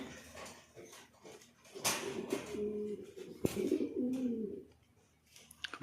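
Several pigeons coo in a loft, with low rolling calls in repeated bursts that are loudest in the middle. A few soft chirps and faint background noise accompany them, and no one speaks.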